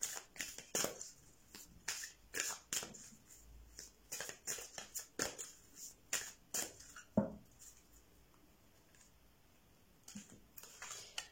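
Tarot cards being handled and shuffled at close range, a run of quick crisp riffles and taps with short pauses between them, quiet and with no voice.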